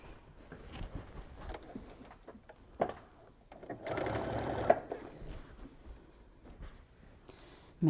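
A sewing machine stitches a quarter-inch seam on an attic windows quilt block, running in short, uneven bursts of rapid mechanical whirring between pauses, with one longer, louder run in the middle.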